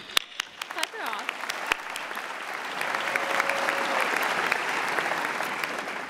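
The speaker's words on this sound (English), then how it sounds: "Clap her off." Sustained audience applause at a university kinesiology commencement ceremony, a dense steady wash of clapping from a large crowd with a few sharper nearby claps and a voice speaking over it.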